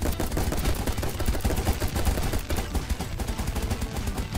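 Rapid, continuous gunfire rattles through the Roblox game Giant Survival, a dense stream of loud, close shots with no pause.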